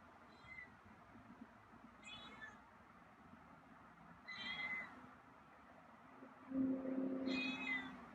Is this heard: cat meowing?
yes